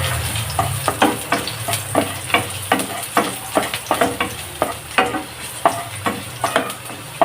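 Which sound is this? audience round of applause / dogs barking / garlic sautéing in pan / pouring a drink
garlic sautéing in pan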